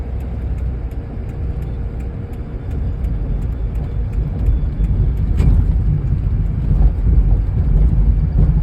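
A car braking to slow down on the road, heard from inside as a loud steady rumble of engine and road noise with some wind buffeting, no speech.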